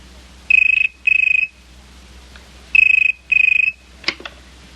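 Telephone ringing in a French sci-fi action series, two pairs of electronic double rings, clear and close, separated by a pause, followed by a brief clatter as the handset is picked up.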